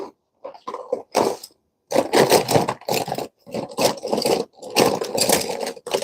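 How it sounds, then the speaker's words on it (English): Plastic markers clatter and scrape together in bursts, rummaged around repeatedly with short pauses between handfuls. "it's the sound of me swishing around markers so I can find the correct"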